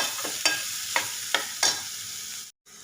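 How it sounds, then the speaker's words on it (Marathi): Onion sautés in a pan for bitter gourd dry curry, a soft continuous sizzle broken by four rhythmic scraping stirs from a spatula, followed by a brief silence. "कांदा आपला छान असा गुलाबी रंग येईपर्यंत परतून घ्यायचा"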